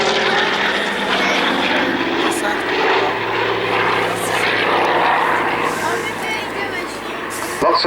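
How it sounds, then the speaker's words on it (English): A Hawker Sea Fury with its big Bristol Centaurus radial engine flies a slow roll at an airshow, a loud continuous propeller drone filling the whole stretch with a commentator talking over it. "Even though it's going quite slowly, he manages to use the power of the big Bristol Centaurus."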